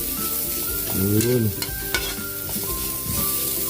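Garlic and onion sizzle steadily in a hot pan, a loud continuous frying hiss with stirring scrapes and clinks, close up, while a person briefly speaks.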